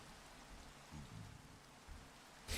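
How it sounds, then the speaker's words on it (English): Rain falling in the Minecraft video game, a steady, soft hiss of noise throughout with a few faint low thumps, heard alone without talk. "Good thing it's raining, that kinda helps."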